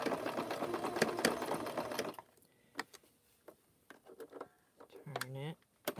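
A sewing machine stitches a wave pattern into a coiled rope bowl, running steadily and fairly loud for about two seconds, then stops; afterward come scattered handling clicks and a short spoken voice.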